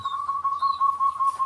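A zebra dove's soft, steady cooing repeats in a continuous low hum-like call, fairly close, with faint chirps in the background.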